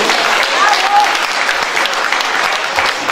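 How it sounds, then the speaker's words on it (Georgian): A packed hall in Tbilisi breaks into sustained applause at a creative evening honouring a film and theatre actor, the clapping dense and even from start to finish, with a few voices faintly underneath. "კიდევ ერთხელ აპლოდისმენტები ლეგენდარულ"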